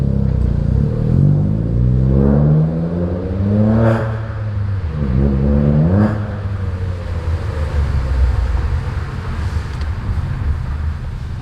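A Ford Fiesta Zetec S Black Edition fitted with a Cobra exhaust drives through a small underground car park with the windows down, its engine note rising and falling through steady revs that echo loudly and continuously.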